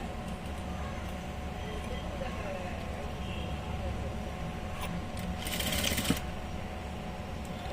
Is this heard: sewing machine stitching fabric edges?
yes